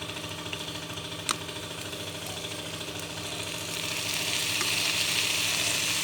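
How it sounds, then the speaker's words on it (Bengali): Homegrown green chillies frying in oil in a pan, a steady close sizzle and hiss that grows louder and denser midway, with a single sharp tick near the start. "তেল দিয়েছি, আর একটুখানি তেল দিয়ে আমি ভালো করে কষিয়ে নেব।"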